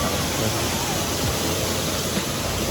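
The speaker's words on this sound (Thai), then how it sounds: "ก็จะมีน้ำตกครับ" A waterfall at the Wat Sala Loi temple photo spot pours in a constant, even hiss of falling water, close and unbroken.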